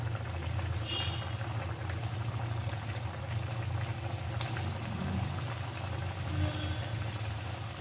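Vegetable momos deep frying in hot oil in a kadai, a continuous close sizzling and bubbling hiss that holds steady throughout without talk.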